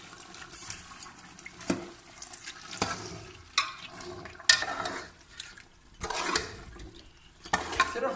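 Chicken biryani being stirred and mixed by hand with spices and crushed browned onions, giving irregular wet squelching and scraping bursts at close range with no talk.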